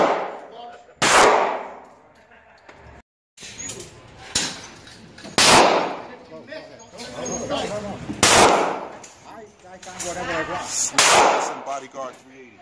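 Gunshots from a Smith & Wesson Bodyguard 380 pistol, about five sharp, loud reports fired at irregular intervals, each followed by a short ring, with voices talking in between.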